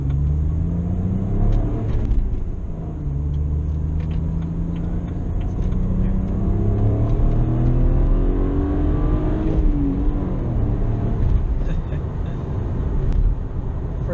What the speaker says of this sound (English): For a stock exhaust, is actually decently loud.